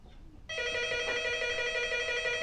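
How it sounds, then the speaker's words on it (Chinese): A telephone in a family home starts ringing about half a second in, a loud, steady electronic trill that continues without pause, with no talk over it. "你接下电话"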